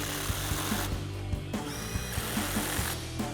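A power tool, likely an impact wrench, is at work on the lower strut bolts of a 2007-2018 Silverado 1500 during a front lift install, using a 13mm socket. Short, rapid bursts of rattling impacts repeat over a steady mechanical whir.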